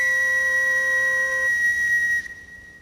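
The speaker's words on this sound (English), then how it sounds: "first I have to find my whistle." A single long, shrill whistle blast sounds clearly and steadily for about two seconds, then cuts off, leaving faint noise.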